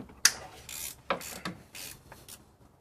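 A ratchet works loose the bolts on a BMW E60 oil filter housing, giving a few close clicking strokes with short pauses between them, fairly quiet with no voices.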